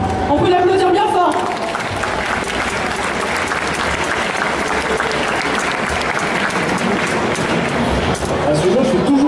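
Audience at a cosplay contest applauding a contestant, loud sustained clapping filling the hall for several seconds, with a voice speaking briefly over its start and end.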